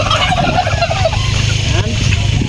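Four-month-old turkeys gobble as they are let loose, a loud, dense flock chorus close by over a low steady rumble.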